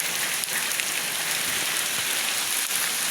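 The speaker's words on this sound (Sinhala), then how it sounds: "වැස්ස වැඩි" Dense, steady hiss of heavy rain pouring onto a surface during kite flying, constant and close, with no talking.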